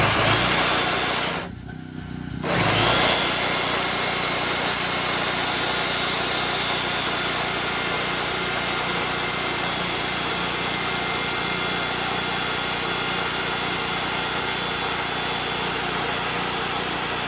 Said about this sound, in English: I obviously got a hold of the blade with the generator going.